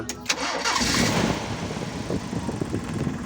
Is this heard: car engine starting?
yes